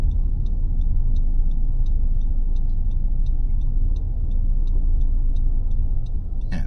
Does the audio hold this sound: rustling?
no